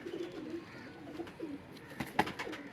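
A pigeon coos softly in a rooftop loft, repeated low rolling calls close by, with a few sharper rustles or flaps near the end and no talk.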